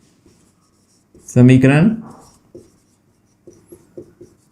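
Equations being written for a Class 10 maths lesson on triangles, heard as a few faint, short scratching strokes spread through the clip, with a brief burst of speech near the start.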